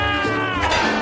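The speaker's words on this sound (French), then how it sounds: "maintenant, elle a vu le chaton" A kitten meows loudly and close, one long wavering cry with a rising then falling pitch filling the whole moment, with a dense room background.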